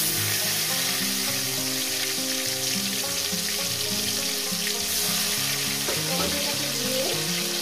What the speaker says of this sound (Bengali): মিনিমাম 1 থেকে 2 মিনিট টমেটোটাকে আমি ভেজে নেব